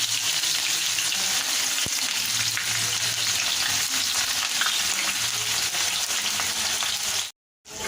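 Onions frying in hot oil with neem leaves and cumin seeds, a steady loud sizzle and crackle that continues evenly before cutting off abruptly near the end.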